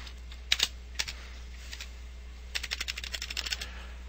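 Typing on a computer keyboard with repeated space bar presses: a few isolated clicks, then a rapid run of sharp keystrokes, close and clear with no talk.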